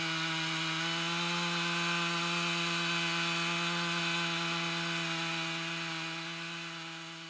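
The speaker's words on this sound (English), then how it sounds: "The chainsaw, it has a higher RPM and it's still, cutting fast and maintaining a high chain speed." A chainsaw with a sharp chain cuts through a tree trunk at high RPM, a loud continuous steady whine held throughout that tapers slightly at the end.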